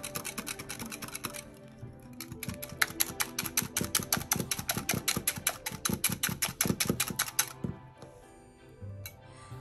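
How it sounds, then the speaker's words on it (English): Egg, honey and coconut oil whisked together in a bowl, rapid rhythmic clicking of the whisk against the sides, fast and steady for several seconds before stopping. "So just whisk it up."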